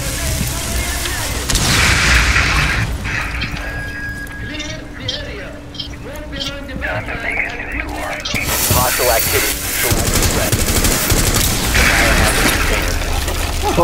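Gunfire crackles through a Rainbow Six Siege round, sharp bursts and impacts layered with game effects, loud and busy, with players talking over much of it.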